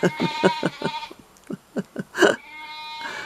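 Several sheep bleat in quick succession, loud and close, with wavering cries that rise and fall, followed by a lower, longer trailing bleat.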